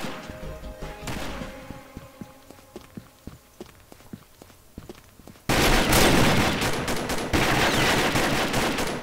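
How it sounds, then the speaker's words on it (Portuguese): Rapid bursts of gunfire crack through the scene, sparse at first, then a dense, loud stretch of sustained automatic fire. "Troca de tiro e SG vs Red Voltage."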